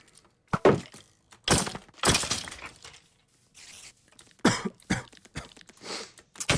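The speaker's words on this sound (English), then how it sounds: "Coughing and wheezing." A person coughing in several harsh, loud bursts separated by short pauses, with rough wheezy breaths between fits.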